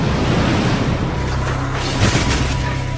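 Typhoon-force storm winds driving heavy surf against the Shikoku coast of Japan, a dense, continuous roar of wind and crashing waves that stays loud and steady throughout.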